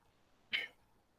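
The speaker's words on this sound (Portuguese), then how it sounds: "Me espirrando, não deu tempo de desligar o microfone." One sharp sneeze from a lecturer at a live microphone, a brief close burst in an otherwise quiet room.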